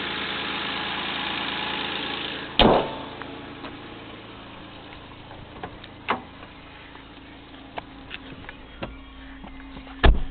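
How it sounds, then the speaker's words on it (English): A Toyota 4Runner engine idles steadily with a low, even rumble, broken by a few sharp clicks and knocks nearby. "the engine sounds pretty good"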